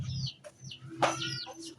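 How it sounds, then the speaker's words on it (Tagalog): Chickens waiting to be fed give soft, close clucks and short calls, a few brief notes rising and falling over a quiet backdrop. "So magpakaon ta sa manok kay nanuktok na ang mga manok."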